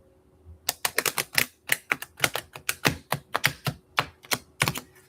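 Rapid, crisp clacking bursts of tarot cards being shuffled, in quick irregular flurries up close with no voices.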